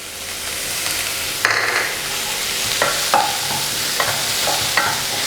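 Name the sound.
stirring green chilies frying in pan for tomato rice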